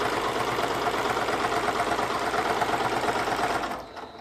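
A sewing machine fitted with a walking foot stitching through the thick layers of a quilt border: a loud, continuous mechanical whir with rapid rhythmic needle chatter, close by, easing off near the end.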